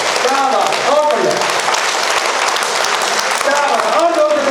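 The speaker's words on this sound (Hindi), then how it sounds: "दोनों हाथ ऊपर करिए, ऊपर ऊपर ताली बजा के कहिएगा" An audience claps with both hands raised overhead at a motivational talk, producing steady, dense applause throughout, while a speaker's voice carries over the clapping.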